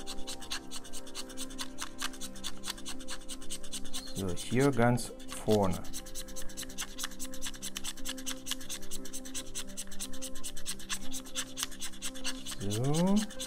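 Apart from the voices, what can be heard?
sharpening a pencil lead with a knife blade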